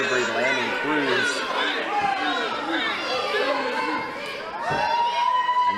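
Wrestling crowd cheering and chattering for the wrestler Cruz, a dense, steady roar of many voices with shouts rising and falling throughout.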